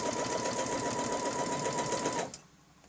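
A sewing machine runs steadily at a fast, even stitching rhythm as it quilts along a ruler, then stops abruptly near the end, leaving quiet room tone.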